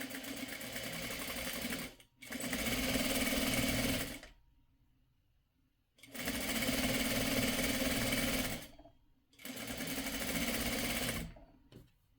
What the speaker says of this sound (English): And then I just chain sew. Just go on to the next one. Sew the next one on here.